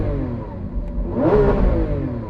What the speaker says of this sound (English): I'm going to rev this up.